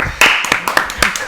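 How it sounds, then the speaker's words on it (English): A few people clap close by in quick, uneven bursts, mixed with voices talking over the claps. "It made it. Everybody clap."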